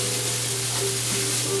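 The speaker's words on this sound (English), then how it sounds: "Saute it for about a good, I would say about 5 minutes after it's reached its hot point." Garlic and fish sauté in a hot pan, giving a steady close sizzle and crackle over a low background hum, with no talking.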